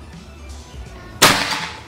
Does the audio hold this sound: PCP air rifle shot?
yes